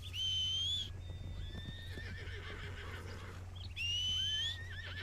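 A horse in Red Dead Redemption II whinnies twice, shrill and drawn out, over a low steady hum with faint hoof clatter between the calls.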